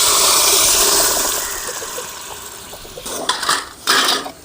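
Thick mashed lentils pour and slosh into a pan of fried onions with a steady wet rushing, followed by a few clinks and scrapes of metal near the end.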